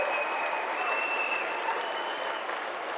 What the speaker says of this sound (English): receives a round of applause from this Wichita Falls crowd